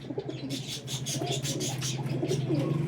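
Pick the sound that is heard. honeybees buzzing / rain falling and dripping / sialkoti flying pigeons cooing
sialkoti flying pigeons cooing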